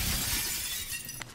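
Glass shattering in The Callisto Protocol, a dense crash of breaking panes that dominates the start and thins into scattered debris, with a short sharp crack near the end.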